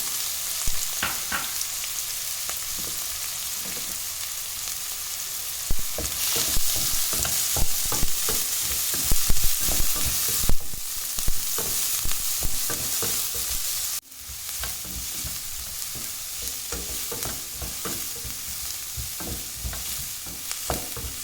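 Onions sizzle and fry in a hot pan for a roadside-style mushroom snack while a spoon stirs and scrapes against the metal in frequent, uneven knocks, loud and close.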